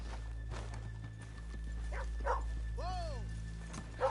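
A horse whinnies once in the middle of a PS4 video game, with faint hoof clops and low ambient hum; brief voices murmur in the background.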